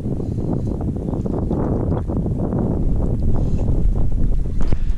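A sailboat moves through the water under wind, with a steady rush of water and heavy wind buffeting on the microphone, loud and continuous, and no one speaking.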